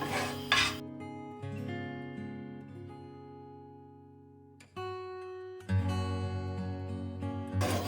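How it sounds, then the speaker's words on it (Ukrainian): Flour toasting in sausage fat in a frying pan, with soft scraping stirs and gentle clinks of utensil on pan over a faint sizzle, quiet and close, with pauses between strokes. "Беремо наше борошно і підсмажуємо його на сковорідці, на тому жирі, що я смажила"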